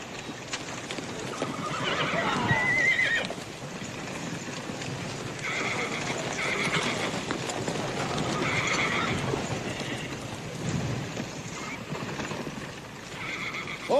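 Several horses are heard, with hooves clip-clopping and occasional whinnies over a busy outdoor background, moderately close.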